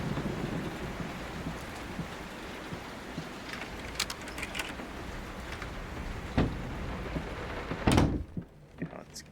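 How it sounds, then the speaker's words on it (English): Steady rain hiss fills the background with sharp cracks and rumbling thunder bursts near the end, while a voice talks intermittently, from a thunderstorm in the video game Layers of Fear (2023). "Will this storm ever run out of rain?"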